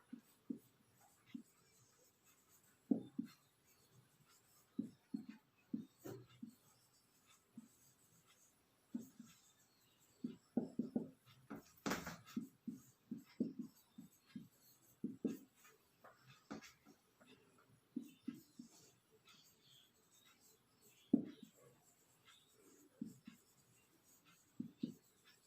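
Quiet pen-on-paper writing during a classroom English lesson, with repeated short scratchy strokes in irregular bursts across the whole stretch, faint and close.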